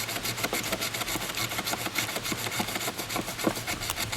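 The toothed back edge of a cheap survival kit knife is drawn back and forth across wood, giving a close rhythmic rasping with short, quick repeated strokes throughout and no voices.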